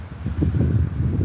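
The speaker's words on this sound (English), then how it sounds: "the sound you can hear is life here on what we call the marginal," Steady wind buffeting the microphone over a low wash of surf on the seafront at São Martinho do Porto, Portugal, a continuous outdoor rumble with no speech.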